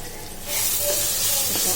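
Ingredients for mango rice, including salted, peeled raw mango, are sautéed in a pan. After a brief quieter start, a loud, steady close-up sizzle and hiss takes over.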